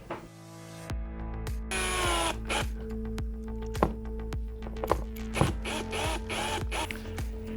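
A power drill driving small wood screws to attach a switch under an Ikea Rodulf standing desk: a steady motor whine that shifts in pitch, with repeated clicks and knocks of the bit and screw, close and fairly quiet.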